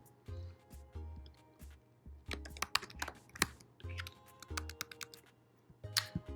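Quick, irregular bursts of typing on a computer keyboard, close and quiet, with short pauses between runs of clicks.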